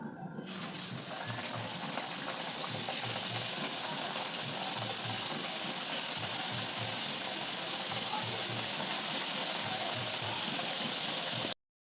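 Nimki dough strips frying in hot oil in a home village kitchen, a steady dense sizzle and hiss that holds at an even level throughout, close by and alone.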